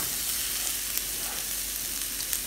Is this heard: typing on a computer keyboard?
no